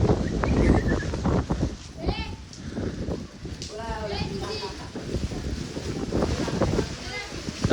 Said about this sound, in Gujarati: પવન એટલો બધો આવી રહ્યો છે ને